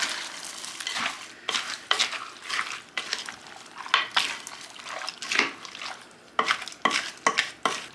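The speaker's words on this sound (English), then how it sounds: "we're just going to get a nice big spoon, stir all of this up" A big spoon stirs food in a pan in repeated close scraping strokes with some wet sloshing and light clinks, and no one speaks.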